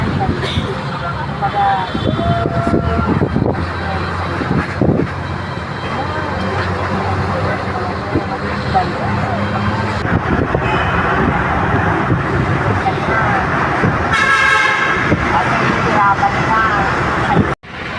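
Road traffic on a slow, congested stretch near Alabang heard from inside a bus bound for Bicol: a steady, loud rumble of engine and road noise runs throughout, with brief louder passing sounds and a sudden drop at the end.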